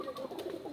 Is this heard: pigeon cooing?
yes